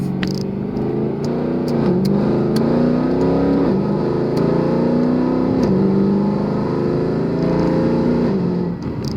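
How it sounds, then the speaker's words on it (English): A 2012 Mercedes W204 C63 AMG with a freshly tuned transmission pulls hard on a test drive, its loud V8 engine rising in pitch through several quick gear shifts heard from inside the car. "let's go for this test drive after doing the TCU tune on the W204 C63 AMG 2012"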